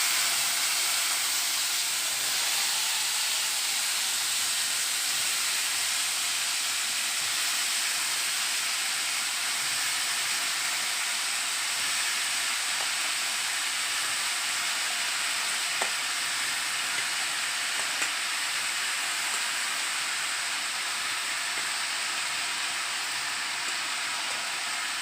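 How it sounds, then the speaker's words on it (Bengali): Pieces of food fry in hot oil with a steady, even sizzle and hiss that continues without a break, close by and moderately loud, with only faint clinks now and then. "এখন ভাজাগুলো ছেড়ে দিব।"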